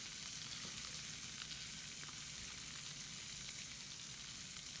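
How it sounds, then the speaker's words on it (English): Synthetic crackling fire effect generated by Kling AI 2.5 Turbo, a steady, dense sizzling hiss that holds constant throughout without change, loud and alone with no voices. "And lastly, this is the fire sound."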